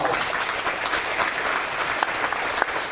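Sustained applause from an audience at a middle school award ceremony honoring honor roll students, a dense, even roar of many hands clapping throughout at fairly loud level.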